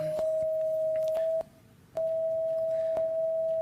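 An electronic eye device turns the colour purple into sound: a steady pure tone holds almost continuously, breaks once briefly, then resumes, with faint clicks and room noise around it and no speech.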